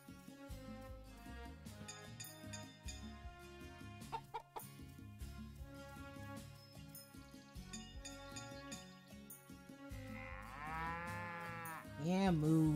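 Cattle mooing in the farming game Story of Seasons: Pioneers of Olive Town, with a couple of clear low moos near the end rising over background game music and hens clucking.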